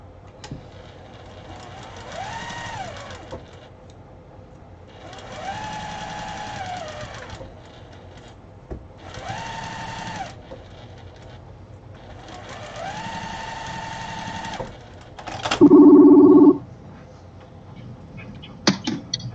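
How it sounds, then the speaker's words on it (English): A sewing machine stitching pieces for a Broken Dishes quilt runs in several loud, close whirring bursts of a few seconds each, separated by pauses, and ends with a louder mechanical buzz and a few clicks. "Get these sewed on."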